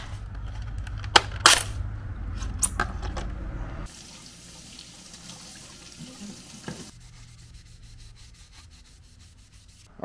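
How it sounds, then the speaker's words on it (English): A Scotch-Brite pad scuffs a drift car's mirror cap, making coarse, close rubbing strokes with a few sharp scrapes over the first four seconds before settling into a quieter, faint background. "I just cleaned off the mirrors and hit it with a little Scotch-Brite"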